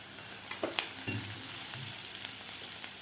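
Onion frying in a pan with a pinch of asafoetida and turmeric, for a sprouted masoor usal: a steady sizzle with a few sharp spatula clicks and scrapes.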